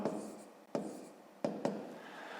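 Pen scratching numbers on paper while working a long division problem by hand, a soft continuous scribble broken by a few sharp taps as each new figure starts.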